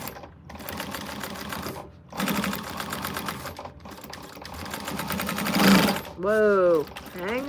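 Sewing machine top stitching a quilted bag, running in several bursts of rapid mechanical whirring with short pauses between, close and fairly loud, with a voice speaking near the end.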